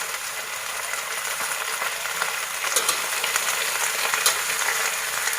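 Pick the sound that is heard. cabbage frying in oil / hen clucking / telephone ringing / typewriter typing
cabbage frying in oil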